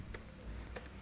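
Computer keyboard typing, a few soft, sparse keystroke clicks, with two or three sharper taps near the end over a quiet, low room hum.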